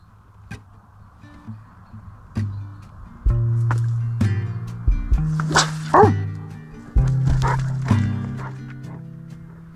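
A dog on a hillside beside a reservoir at a fishing spot gives a series of yips and whimpering barks, close and clear, with a few separate sharp knocks in between and a faint murmur of background voices.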